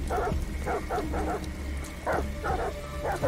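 Dogs in the video game Detroit: Become Human barking in repeated short bursts, several loud yips in a steady rhythm over a low ambient game hum.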